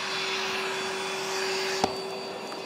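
A Rainbow vacuum cleaner runs during an in-home demonstration, giving a steady, close, loud whirring drone with a constant whine and a single sharp click near the end, with no talking.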